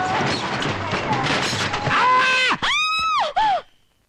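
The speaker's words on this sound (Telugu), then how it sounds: "ఏంటి నాకేదో అరుపు వినిపించింది" A film scene: a loud, drawn-out scream rises and wavers near the end, after a stretch of noisy commotion, then cuts off into silence.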